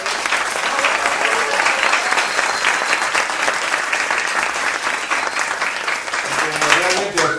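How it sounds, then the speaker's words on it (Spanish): An audience at a talk event gives the organizer sustained, loud applause, dense continuous clapping that holds steady for several seconds with a voice faintly audible near the end. "Yo pido un aplauso para Nati."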